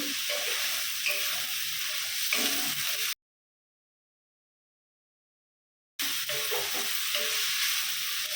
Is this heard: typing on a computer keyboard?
no